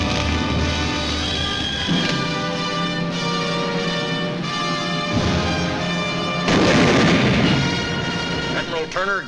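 A WWII mortar barrage on Iwo Jima near Mount Suribachi, heard as continuous heavy artillery thuds and bursts mixed under orchestral music, with a louder, denser volley late in the passage.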